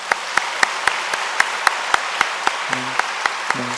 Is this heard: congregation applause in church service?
yes